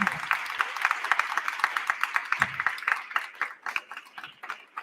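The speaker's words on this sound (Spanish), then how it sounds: "pido un fuerte aplauso para ella, por favor" Applause from an audience at a book presentation welcoming a female author: sparse, uneven hand claps that thin out toward the end, fairly quiet and alone.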